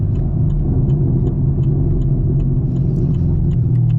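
Camaro SS with Kooks headers, no catalytic converters and mufflers, cruising at night, giving a steady deep exhaust rumble that stays loud and low throughout, heard from close by.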